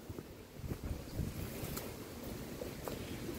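Strong wind blows outdoors along a walking path, rushing and buffeting against the microphone in steady gusts with no talking.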